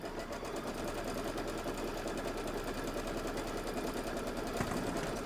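A Kimberbell embroidery sewing machine stitches at 1,050 stitches per minute, producing a steady, fast, even chatter of needle strokes that holds constant throughout at moderate loudness, close by.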